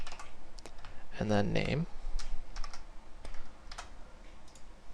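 Code being typed on a computer keyboard: scattered clicky keystrokes, close and moderately loud, with a short stretch of a voice speaking over them.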